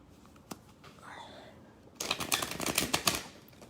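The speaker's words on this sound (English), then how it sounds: "I'm going to do my pathetic shuffling again." Large oracle cards being shuffled by hand, a dense run of papery riffling and slapping close by after a quiet start with a faint tap.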